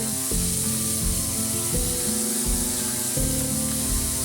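Diced potatoes salted for a bottle gourd kofta dish fry in oil, a continuous hiss and crackle running under steady background music.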